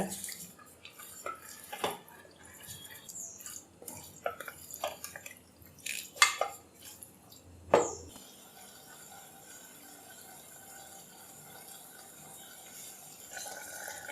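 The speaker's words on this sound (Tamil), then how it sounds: "சேர்த்துட்டு மட்டனை நல்லா வதக்கி விட்டுருங்க" Mutton for Chettinad mutton varuval is stirred in a pan, with sporadic clinks and scrapes of a spatula against metal, some sharper knocks midway, then a quieter low background.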